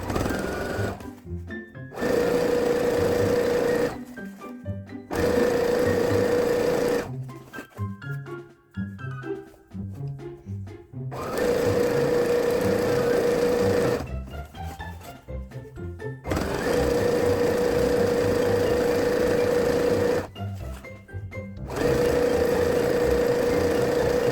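A sewing machine stitches around a skirt hem in several steady, loud runs, each lasting a few seconds and separated by short pauses and handling noise. No one talks.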